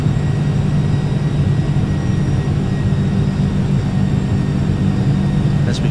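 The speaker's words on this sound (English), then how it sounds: "The airplane's going to start climbing again." Engines of an MD-11F freighter in Microsoft Flight Simulator 2020 drone steadily during a climb out through bad weather, a loud, continuous low rumble with a broadband roar that holds even throughout, with no voices.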